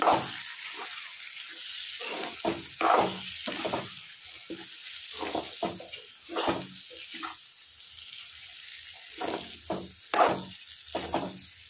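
Vegetables being stirred into Schezwan fried rice frying in a pan, a steady close sizzle broken by repeated scraping stirs of the spatula, with no talking.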